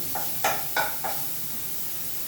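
Turmeric roasts in hot oil while being stirred, giving four short, soft sizzling scrapes in quick succession, then a quiet hiss.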